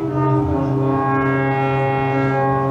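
A Buchla Music Easel synthesizer drones with a steady, rich harmonic tone, loud and continuous, with subtle shifting modulation across the whole stretch and no voices.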